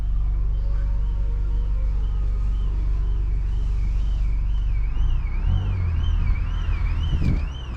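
BMW X2 M35i engine in sport driving mode, a steady low engine drone heard from inside the car, with a wavering electronic tone above it and a short swell near the end.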